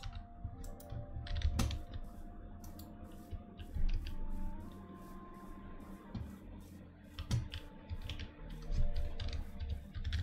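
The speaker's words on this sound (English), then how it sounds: "this keyboard is so much quiet." A quiet computer keyboard typed on during Minecraft play, with soft irregular clicks and short bursts of keystrokes close by over faint game tones and low background hum.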